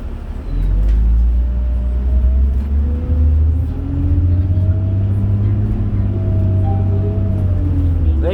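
A 2001 New Flyer D40LF city bus on Calgary's route 14 West at night pulls away with a loud, close diesel rumble, its engine tone rising gradually through the gears as it accelerates steadily.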